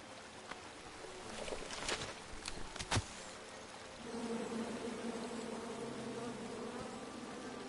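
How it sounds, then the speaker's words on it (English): Angry bees buzzing in the King's Quest video game, a steady low drone under game ambience with a few sharp knocks early on, moderately quiet. "And then you chop down the tree full of angry bees?"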